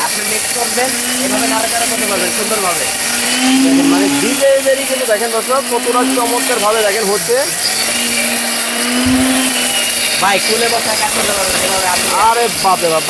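Powerful electric blender running at full speed, a loud, close motor whine that rises and dips in pitch as the load shifts, steady and continuous, with someone talking over it.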